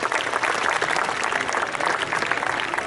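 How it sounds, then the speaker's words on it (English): Spectators applaud an eagle after a falconry flying display at the Great Dorset Steam Fair, an outdoor crowd giving steady, dense clapping that carries evenly for a few seconds. "Give her a great big round of applause"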